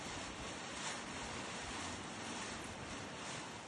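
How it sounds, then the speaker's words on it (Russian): Very strong wind blows on a cold, drizzly lakeshore, a dense continuous roar of gusting air with water noise beneath, steady and unbroken with no voices. "Ветер сильнейший."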